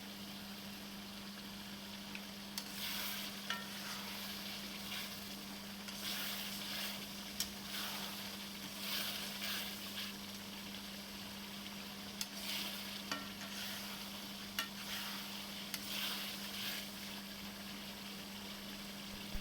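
Potatoes and spices stir-fried in a pan, a faint low sizzle with intermittent scraping stirs and light clinks over a steady background hum, no talking.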